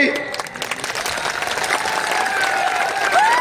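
Dense, steady applause from a large audience at a political rally with the Home Minister, clapping loud and continuous throughout, with a faint voice over a loudspeaker briefly rising above it.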